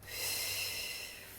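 A single steady exhaled breath during a prenatal glute exercise, close and soft with an airy hiss that lasts a little over a second.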